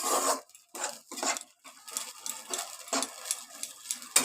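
Egg chilli is stirred and sautéed in a pan, with a utensil scraping and clattering against the metal in repeated uneven strokes, close and moderately quiet.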